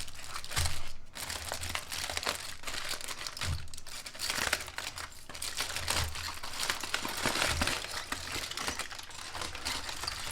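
Aluminium tin foil crinkles and rustles steadily as it is peeled back from a rested pork shoulder, a close, busy crackle with small bursts and soft thumps throughout, with no talking.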